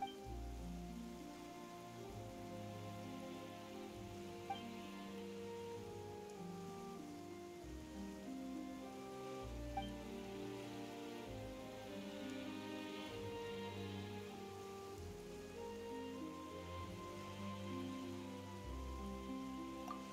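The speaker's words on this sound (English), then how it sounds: "Why is it raining all of a sudden?" Rain falling in the video game Genshin Impact, a soft steady patter beneath a layered melodic music score that carries throughout, fairly quiet, with no talk.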